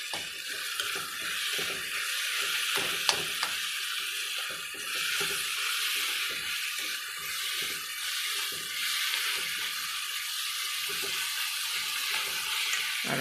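Mushrooms sauté in a pan, a soft, steady sizzle broken by frequent scraping stirs all the way through.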